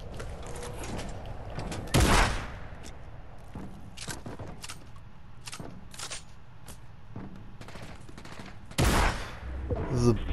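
Shotgun blasts in a video game ring out as loud, sharp bursts among scattered quieter shots and mechanical clicks, with a couple of especially heavy booms standing out over the steady game noise.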